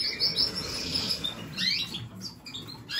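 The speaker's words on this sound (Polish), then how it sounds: "powoli rozbudzam te ptaki" Canaries chirp in a breeding room, bright, quick twittering phrases that come and go in bursts over a soft rustling background, fairly close and without any voices.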